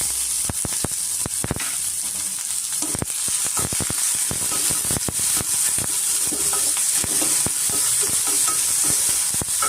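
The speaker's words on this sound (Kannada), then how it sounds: "ಎಣ್ಣೆ ಸೇರಿಸ್ಕೊತಾ ಇದ್ದೀನಿ ಇದಕ್ಕೆ ನಾನು ಈರುಳ್ಳಿ ಹಾಕೋತಾ ಇದ್ದೀನಿ" Onions fry in two to three spoons of hot oil, a loud continuous sizzle with frequent sharp stirring clicks and scrapes throughout, no one speaking, while cooking egg bhurji with arive greens.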